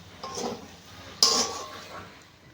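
A metal cooking pot used to boil taro leaves in a village kitchen is handled and scraped, giving soft clinks followed by one sharp, loud metallic clank partway through.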